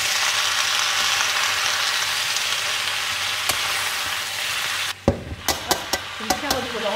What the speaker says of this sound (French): Allez, on mélange.